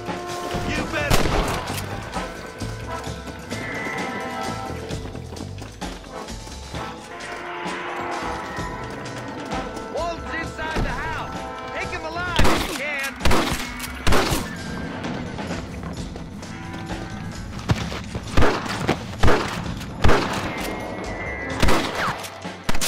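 Gunfire in the Western game Red Dead Redemption: a series of sharp, loud shots, some in quick pairs, cracking over a busy bed of ambient game sound, with voices talking at times.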